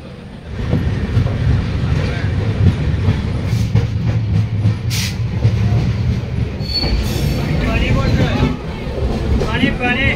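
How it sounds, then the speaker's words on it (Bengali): A train crossing the Brahmani River railway bridge, wheels rumbling steadily and loudly over the span with occasional squeals and clacks, sustained throughout. "ট্রেনটি এখন পাস করছে ব্রাহ্মণী রেলওয়ে রিভার ব্রিজ দিয়ে, অর্থাৎ নিচে অবস্থিত ব্রাহ্মণী রিভার।"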